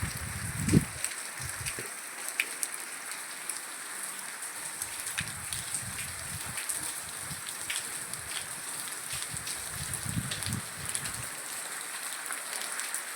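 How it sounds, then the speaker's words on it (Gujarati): Light rain falls steadily outdoors as a faint, even hiss of drops, with a few soft nearby thumps breaking through now and then. "ધીમો ધીમો ધીમો એ વરસે છે"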